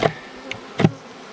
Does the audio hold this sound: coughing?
no